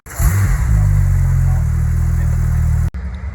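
Two Porsche 997 RS cars rev loudly and close by, a steady deep engine drone holding for nearly three seconds before cutting off abruptly.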